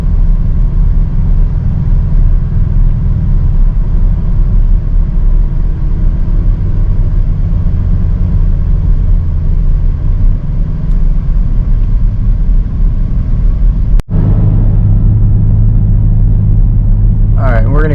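Inside a 2023 BMW XM during a launch, a steady, loud engine and road rumble runs throughout, broken by a sharp click near the end, after which a voice begins.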